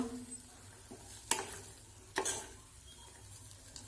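Dry semolina heating in a pan, stirred with a spoon: two sharp scraping strokes stand out over a faint low hiss, quiet and close, with no voices.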